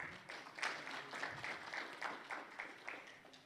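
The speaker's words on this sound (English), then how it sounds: "Let us give him a proper round of applause" Applause from a webinar audience honoring a presenter, faint and somewhat uneven, with scattered claps blending into a soft patter through the short stretch.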